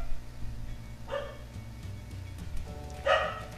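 Dog Pokémon cry out in a Pokémon video game battle, two short bark-like calls about two seconds apart over a low game music backdrop.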